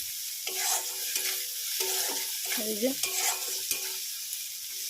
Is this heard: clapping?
no